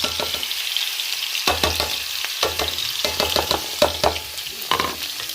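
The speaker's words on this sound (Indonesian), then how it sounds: "Oke, tumis bawang putihnya sampai harum." Garlic sautés in hot oil in a pan for moussaka, giving a close, steady sizzle broken by a series of sharp spatula stirs and scrapes.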